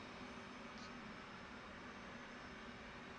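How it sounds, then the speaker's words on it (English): Left jet engine of an F/A-18 Hornet starting in the DCS flight simulator, a steady faint whine and broadband rumble that holds throughout with no voices. "We're going to go and crank the left engine now."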